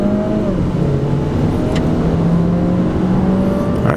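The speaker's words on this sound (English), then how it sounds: "I did feel a little bit of lag with the turbo, okay, right when initially mashing down the gas pedal all the way to the floor." A turbocharged compact car with the air conditioning on, floored from a standstill, heard from inside the cabin as a steady, loud engine drone with tones climbing gradually under road and blower noise.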